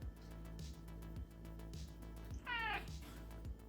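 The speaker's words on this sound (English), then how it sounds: "progress has been halted by an attention-seeking cat" A domestic cat gives a few close, insistent meows, with one longer drawn-out call midway, over a steady low electrical hum in an indoor room.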